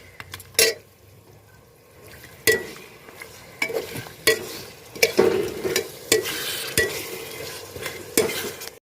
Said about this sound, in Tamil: ஹை ஃப்ளேமில் வச்சு நல்லா வதக்கி விடுங்க